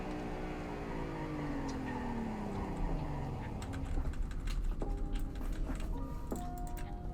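A sheriff patrol car in the Roblox-style game Greenville brakes hard from speed, its engine tone sliding steadily downward before settling into a low idle, with light clicks and ticks scattered near the end.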